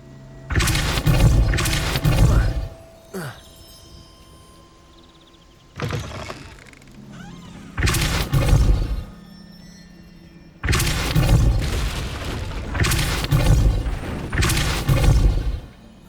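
The Depulso spell is cast over and over in Hogwarts Legacy, each cast a sharp forceful burst followed by a brief tail, with short quiet gaps between the bursts.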